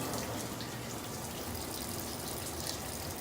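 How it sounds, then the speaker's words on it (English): Water runs steadily from a household spigot after a water heater anode rod change, a constant, fairly loud rushing flow close by that never lets up, with no voices. "Having dirty water come out of your spigots is not uncommon after changing an anode rod"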